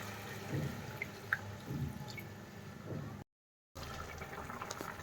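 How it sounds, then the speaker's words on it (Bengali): Fish curry broth with drumstick and bata fish bubbling in a cooking pot, a soft run of close drips and bubbling pops with brief splashy squishes, broken by a short gap of silence. "এই যে ঝোল ভালো ফুটে গেছে"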